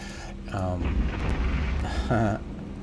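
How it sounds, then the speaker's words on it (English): Ship guns firing in the space game Eve Online, heavy booming bursts landing twice over a rumbling low background, loud and close. "Of course, I'll fire the guns"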